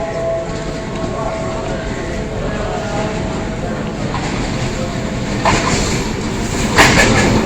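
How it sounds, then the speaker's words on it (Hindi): A train on the Gujrat to Lahore line passes close by with a loud, continuous rumble and rattle, swelling slightly toward the end. "ये ट्रेन हमारे करीब पहुंच चुकी है"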